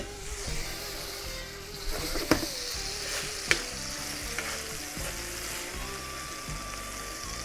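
Asparagus cooks fast in a hot pan, giving a continuous close sizzle with faint crackles and a couple of sharp clinks of the pan or utensil.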